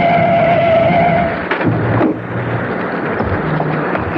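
A car skids to a stop on a road, a sustained loud tire screech and engine roar that tapers off into a steadier idling rumble, with no talk.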